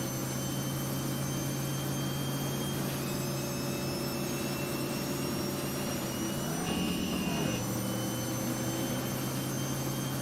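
A modded truck engine with turbo in American Truck Simulator drones steadily and loudly throughout, a constant whine and rumble with a brief rising-falling pitch sweep near the middle, no voices.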